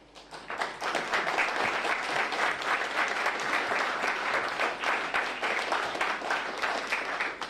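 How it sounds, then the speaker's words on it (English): A crowd applauds loudly and steadily, dense clapping sustained throughout after a brief quieter start. "Thank you for your kind applause."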